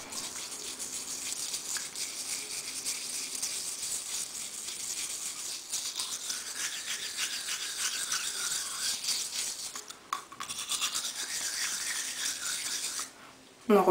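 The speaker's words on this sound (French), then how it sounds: "vous en mettez sur votre brosse à dents comme ça et vous frottez sur toutes les dents" Steady scratchy brushing of teeth with a toothbrush, a rapid rasping scrub that continues for several seconds with brief pauses near the end.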